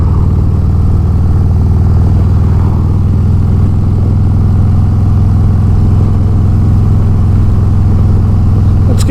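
A 2022 Harley-Davidson Road Glide Special motorcycle engine drones with a deep, steady low rumble, loud and close, holding an even tone from start to finish.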